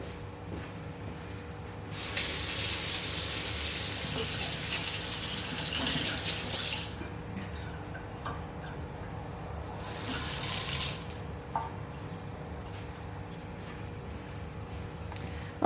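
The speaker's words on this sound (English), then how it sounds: "Let me go rinse this one off." Tap water runs in two bursts to rinse sand off a plant cutting, a steady hiss of about five seconds and then a shorter one, over a low background hum with no talking.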